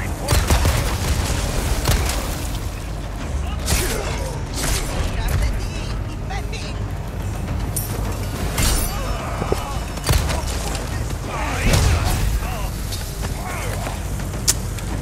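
Explosions and gunfire from the Resident Evil 4 Remake, a valley full of enemies, burst repeatedly in booming thuds and crackles amid busy game action, with a voice talking over parts of it.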